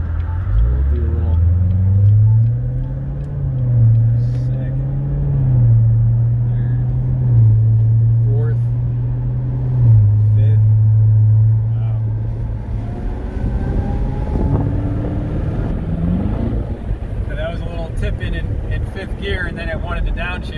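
A Corvette Z06 Stingray driven on a dusty road, its engine droning loudly and shifting in pitch through the gears, heard close under someone talking over it.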